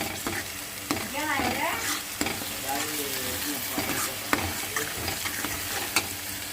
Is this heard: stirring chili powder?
yes